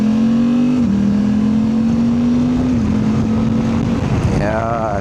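Suzuki V-Strom 800DE motorcycle fitted with a DNA air filter, its engine droning steadily and shifting pitch as it rides, loud and close under wind roar, with a brief rise in revs near the end.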